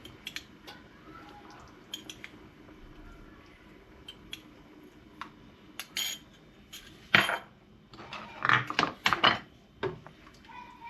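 A spoon stirs a pot of Turkish lentil soup: quiet at first, then a flurry of close metallic clinks and scrapes against the pot toward the end.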